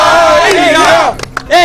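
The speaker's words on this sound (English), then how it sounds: "can we have a final cheer for Team India?" A crowd of Indian cricket fans roars a loud cheer for Team India, voices shouting together in a rising chant that breaks off and briefly swells again.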